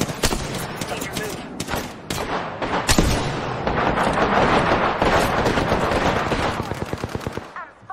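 Dense automatic gunfire in the Apex Legends battle royale game: rapid, loud bursts of shots that run almost without pause, with sharp single cracks scattered through the barrage.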